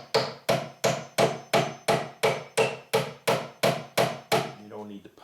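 Small Stanley hammer tapping a wooden frame during assembly, about eleven evenly spaced sharp strikes, each ringing briefly before the next, close and clear, ending with a short rattle.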